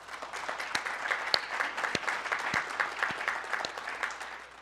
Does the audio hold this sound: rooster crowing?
no